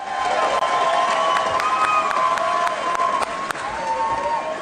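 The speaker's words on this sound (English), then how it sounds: "Let me hear you cheering." A crowd at the RNC cheers and applauds loudly and continuously, a dense roar of claps and shouts with a few whistles, heard as if from within the hall.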